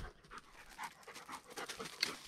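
A pointer hunting dog pants during a partridge hunt in Albacete, giving a fast, rhythmic series of short breathy huffs, close but faint and heard alone.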